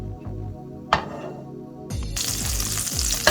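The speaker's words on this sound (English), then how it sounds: "I'm gonna get the same pan I fried the fishes in and I'm gonna let it heat up again" Frying pan of oil reused from frying fish heating up on the stove, crackling and sizzling that grows louder and denser, with a few sharp pops and clatters of the pan.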